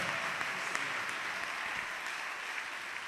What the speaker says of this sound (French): je veux que tu acclames le Seigneur pour cette vérité